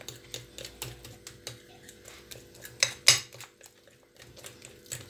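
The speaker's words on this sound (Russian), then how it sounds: "Хорошенько все перемешиваем, чтобы у нас комочки с вами здесь не было." A utensil mixes batter for fried hake in a bowl, making light rhythmic clinks and scrapes against the bowl that end in a sharper knock, close and fairly quiet.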